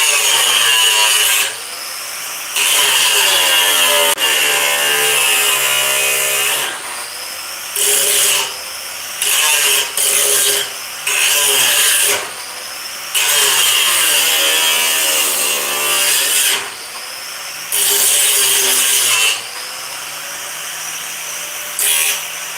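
Power tool grinding down poor welds on a DIY project, a loud harsh whine that runs in long bursts and short stops, cutting off and restarting many times with no voices.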